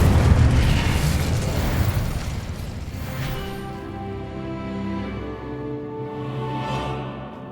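A fire spell cast in the video game Hogwarts Legacy bursts out as a loud, close whoosh of flame, then fades into a sustained, tonal magical hum. No one speaks.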